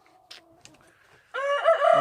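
Farm chickens in a winter coop: after a few faint scattered noises, one bird lets out a loud, close, harmonic call, like a crow or drawn-out squawk, lasting under a second.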